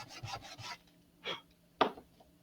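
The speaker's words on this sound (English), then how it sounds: "So I'm going to stack the fins and just use a piece of sandpaper on the ground," Stacked model rocket fins for an Estes Great Goblin are rubbed across sandpaper on a mat to remove burrs, making a few short, close rasping strokes, a quick group followed by two separate scrapes.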